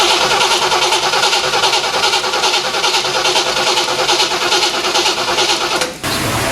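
A Corvette C3 with a no-start fault after upgrades cranks continuously on its starter, a loud, steady, rhythmic churning that runs for about six seconds without catching and then cuts off abruptly.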